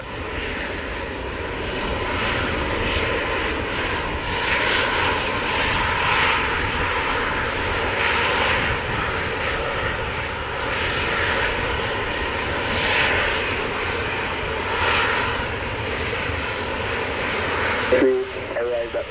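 A large airliner takes off at Montego Bay, Jamaica, its engine roar loud and steady for the whole stretch, with air traffic control radio talk mixed in.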